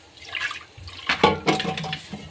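Dal pours into a hot pan in uneven splashing gulps of liquid, beginning quietly and then growing louder in several wet bursts.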